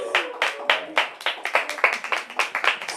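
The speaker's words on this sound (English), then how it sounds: "So let's do applause." Scattered hand clapping from a small audience at a book event for a fiction debut, a dozen or so distinct close claps in an uneven rhythm, fairly quiet and with no voices.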